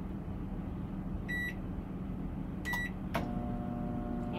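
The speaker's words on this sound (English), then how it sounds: "let's pull this rack out and test the microwave." A microwave oven in a B-Class RV runs with a low, steady hum and fan drone, while a few short electronic beeps from the control panel sound close by.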